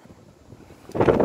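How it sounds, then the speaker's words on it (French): A strong wind gust from storm Carmen in Le Mans, reaching 75-80 km/h, rises suddenly near the end as a loud, broad roar buffeting the microphone after a quieter breezy stretch. "Petite rafale là."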